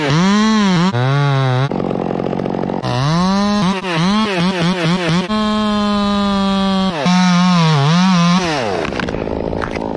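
A chainsaw cuts a tree, its engine loud and close, revving up and down in repeated bursts with brief drops between pulls.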